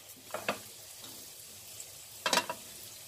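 Cumin and other whole spices drop into hot oil for an eggplant curry, giving two short bursts of crackling sizzle, the second louder, over a faint quiet background.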